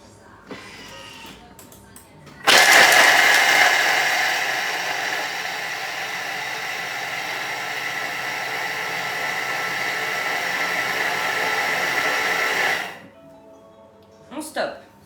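A Thermomix blends cookie dough with gianduja at speed 7 for about ten seconds, giving a loud, steady whirring roar that cuts in abruptly and stops just as suddenly. Quiet talk comes before and after the mixing.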